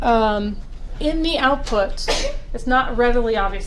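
A single sharp sneeze bursts out partway through a lecturer's steady explanation of statistics output, caught close and loud between stretches of speech.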